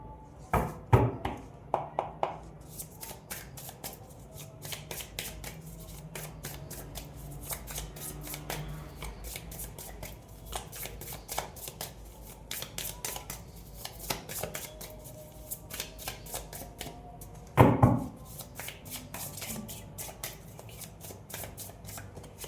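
Tarot cards are shuffled and drawn by hand, a long run of quiet, rapid flicking and riffling clicks with a few louder slaps and taps, including a sharp thump near the end, mostly without talk.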